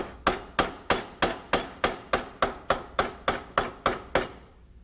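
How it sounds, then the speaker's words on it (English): Mallet striking a chisel to carve a bevel in wood, twelve sharp even blows in a steady rhythm, close and loud, with no talk. "I'll just take and cut that bevel down."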